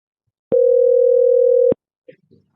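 One loud, steady telephone tone holds for a little over a second during a VoIP call placed from a mobile phone to a laptop, then cuts off, followed by a couple of faint clicks.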